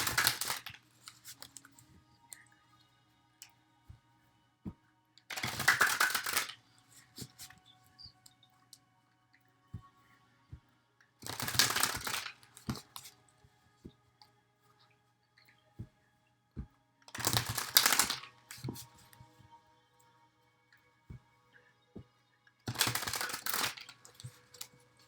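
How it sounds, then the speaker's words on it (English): Tarot cards are shuffled in four quick riffling bursts spaced several seconds apart, with soft taps and rustles between them; close and quiet, no voices. "I allow the card to fall as I shuffle"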